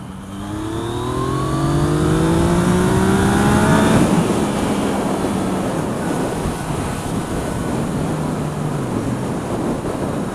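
Yamaha MT-09 motorcycle pulling hard in third gear, engine pitch climbing steeply for a few seconds before settling into a loud steady roar mixed with rushing wind noise.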